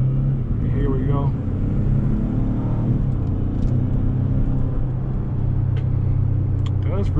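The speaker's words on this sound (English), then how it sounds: "Does very well with acceleration for as heavy as this thing is." A 2020 Ford Expedition Limited Maxx accelerates with a steady low engine rumble and road noise inside the cabin, while people talk over it.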